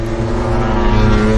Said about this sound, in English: he's riding that Ducati like nobody else has ridden it in a long time